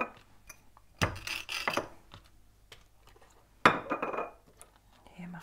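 Cabbage leaves set down onto a plate in a kitchen, producing two bursts of crisp rustling and a light clink of crockery, close and fairly loud, separated by quiet handling noises.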